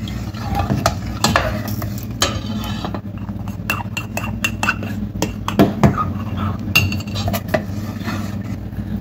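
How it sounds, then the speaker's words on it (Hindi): A spoon stirs custard powder into cold milk in a metal pot, a loud, continuous swishing with frequent sharp clinks of the spoon against the sides in an irregular rhythm, and no talking. "इसमें हम 2 टेबल स्पून कस्टर्ड जो है वो घोल लेते हैं"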